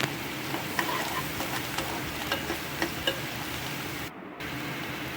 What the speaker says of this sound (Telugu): కొద్దిగా అల్లం పేస్ట్ వేసి కొంచెం అటు ఇటు కలిపి అల్లం అంతా వాటికి పట్టేలాగా కలిపి